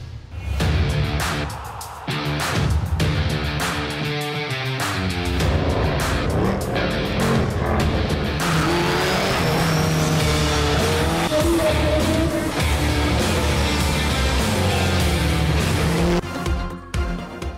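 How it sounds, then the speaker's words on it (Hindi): Cars drifting at a car racing festival on the Shakarparian Parade Ground in Islamabad, engines roaring loudly and tires squealing in long sustained screeches, with no talking. "किसी ने बर्क रफ्तार गाड़ी चलाई तो किसी ने कार ड्रिफ्टिंग के फन का मुजाहिरा किया"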